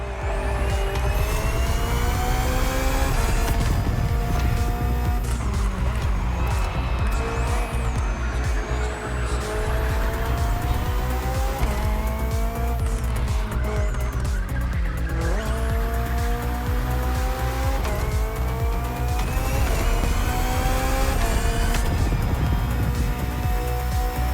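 A BMW hybrid V8 race car in The Crew Motorfest roars continuously at high revs, with shifting engine pitch, gear changes and repeated tire squeal through corners.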